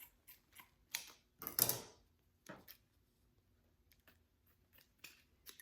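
Scissors snip through ribbon tails on a Christmas gift basket, a few short close cuts with one louder crisp snip in the middle and quieter ticks between, no talking.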